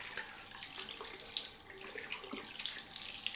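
Warm tap water running into a sink as a safety razor and shaving brush are rinsed, a steady close splashing hiss with small spattering changes throughout.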